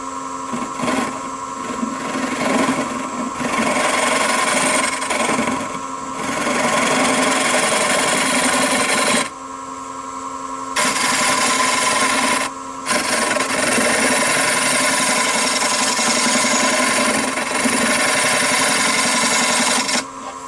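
Wood lathe turning a small oak bowl at about 665 RPM while a tool cuts and smooths the wood, a loud, close rasping scrape with a steady whine that stops and restarts in bursts.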